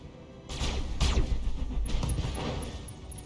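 Mech weapons firing in the BattleTech video game: a rapid volley of heavy, booming shots and blasts that rolls on over about three seconds, loud and close, with no talk over it.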